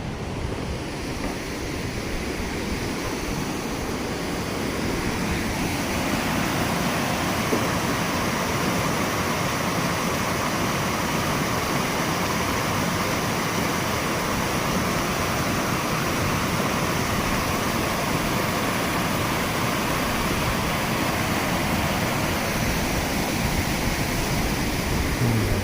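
Love's Falls, a waterfall pouring into a swimming hole, gives a continuous broadband roar of falling water. It is loud and steady throughout, with some wind noise and no voices.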